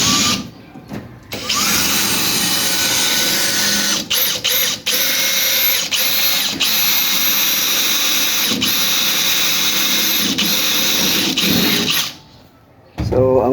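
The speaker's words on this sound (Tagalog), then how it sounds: "pag drill naman po mga ka-workers, pagbutas natin, kaya dapat kontrolin natin yung ating pagbutas ng ating PVC panel" Power drill whirring steadily as it bores through a PVC wall panel, loud and close with a constant high-pitched tone, a few short stops and restarts, and a speaker's voice in brief pauses at the start and end.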